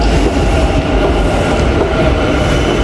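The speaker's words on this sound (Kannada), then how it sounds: "ಆ ಕಡೆ ಬಂತು ಟ್ರೈನು" A Bengaluru metro train arrives at a station platform, its loud, close rumble of wheels and carriages filling the space steadily, with a faint high squeal above.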